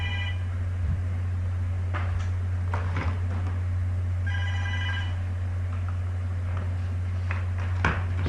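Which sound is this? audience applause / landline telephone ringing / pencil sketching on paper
landline telephone ringing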